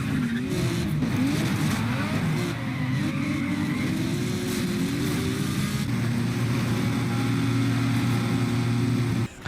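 A racing car engine from the video game Need for Speed ProStreet roars continuously at high speed with turbo whine and a gear shift partway through, loud and steady with no voices.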